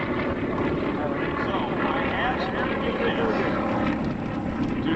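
Propeller engine of an F4U Corsair fighter taking off at an air show, a steady loud droning roar filling the scene throughout with crowd or announcer voices faintly mixed in.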